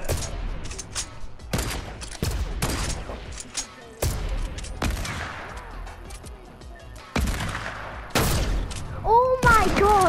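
Repeated gunshots in the Fortnite video game, sharp loud blasts spaced a second or two apart with crackling tails and a few quicker bursts, while a player talks over the action.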